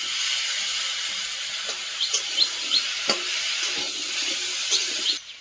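Taro and potatoes hit a pan of cooked-down spice paste, giving a steady soft sizzle with a few sharper crackles and stirring scrapes, fairly close, with no talk.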